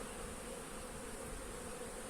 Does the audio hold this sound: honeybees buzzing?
yes